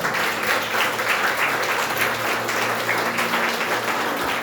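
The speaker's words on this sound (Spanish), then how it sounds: "Denle un fuerte aplauso a nuestro Señor." A church congregation claps loudly and continuously, a dense steady wash of applause filling the whole stretch.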